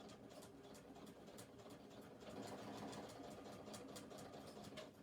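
A sewing machine stitches back over the side seams of a criss cross shoulder bag to reinforce them, a steady fast mechanical whir with a rapid ticking needle rhythm, close and continuous throughout, no talking.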